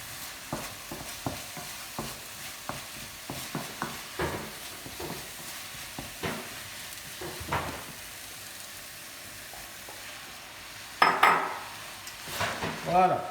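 Ground meat frying in a pan with onions, with a steady close sizzle under repeated scraping and clinking stirs from a utensil, and a louder burst of sizzle near the end.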